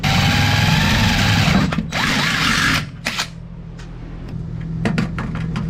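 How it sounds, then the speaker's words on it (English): A power drill bores a hole inside a former live well on a DIY jon boat build, a loud whirring run with pitch shifts, then it stops and short bursts and clicks follow. "we got to drill a hole on the inside"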